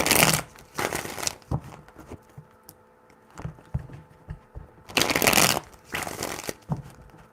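Tarot cards are shuffled in several quick riffling bursts, up close and crisp. Quieter gaps between them hold faint rustles and taps.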